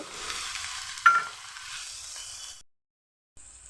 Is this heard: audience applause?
no